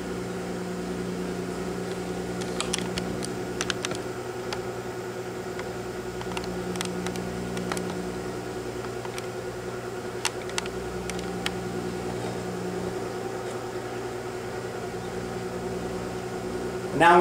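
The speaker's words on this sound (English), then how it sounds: "it's going to go into a low speed 600 RPM spin" A Kenmore (LG) front-load washing machine in a low-speed 600 RPM spin with its drain pump running, giving a steady mechanical hum and whir with scattered small clicks and a faint voice in the background.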